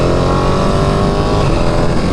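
Ducati Panigale motorcycle being ridden at speed, its engine a loud, close, continuous roar with a steady rumbling drone throughout.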